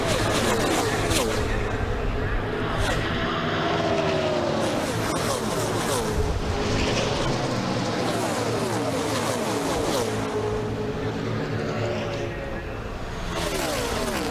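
A V8 race truck engine screaming near 8,000 RPM without a restrictor plate during a 250-lap Dodge Dealers truck race in Florida, a dense continuous roar of passing trucks throughout, with overlapping engine pitches rising and falling.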